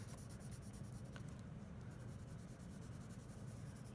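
Pencil shading on paper with middle pressure, a steady soft scratchy rubbing that continues evenly for several seconds, quiet and close, with no talk.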